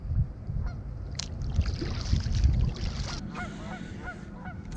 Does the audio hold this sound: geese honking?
yes